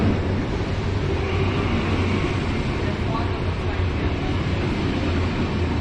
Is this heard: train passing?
yes